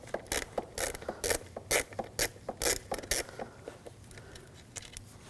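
A ratchet with a T20 socket backs out the wiring harness screws on a 2006-2009 Audi S4 4.2L V8, producing quick, close clicking bursts in an uneven rhythm that fade toward the end.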